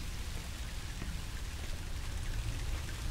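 Steady rain falls in the Song of Horror video game, a dense continuous hiss with pattering drops on surfaces, alone and unbroken.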